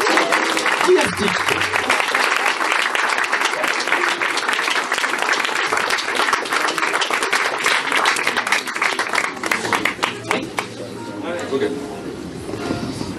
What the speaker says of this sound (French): Mesdames et messieurs, applaudissez dans un torrent d'énergie fait homme, Monsieur Guy Astix